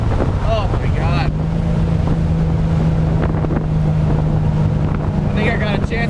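A 1971 Camaro with a 383 stroker engine roars steadily and loud right up close, with a sustained tone and heavy wind buffeting throughout, while a few voices shout and whoop briefly near the start and end.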